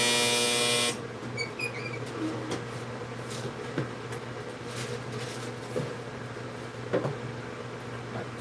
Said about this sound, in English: So now that's the printer.